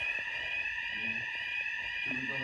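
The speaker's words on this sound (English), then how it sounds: "this morning me and Mum were abruptly woken up by a fire alarm going off" A hotel fire alarm rings with a steady, piercing high tone that goes on without pause, while muffled voices talk faintly underneath.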